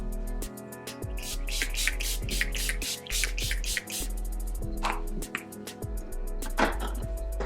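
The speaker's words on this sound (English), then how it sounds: "Let me go ahead and set her with a little bit of setting spray." Rapid bursts of hissing spray pulse repeatedly over steady background music, several short pumps in quick succession, close by.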